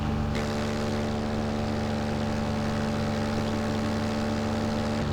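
A paramotor engine drones loudly and steadily in flight, its propeller hum constant and close throughout with no talking.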